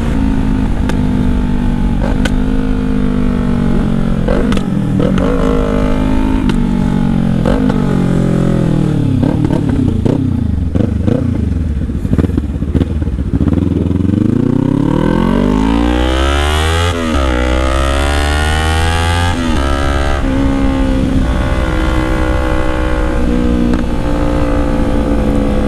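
A Kawasaki Z1000 motorcycle engine roars loud and close throughout, idling roughly, then revving up and down in rising and falling sweeps with heavy low-end rumble and no talk.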